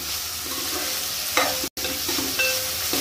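Onions and green chillies are stirred in a frying pan for a mixed vegetable curry. A steady, close sizzle runs throughout with scraping stirs, broken by a brief silent gap midway; no one talks.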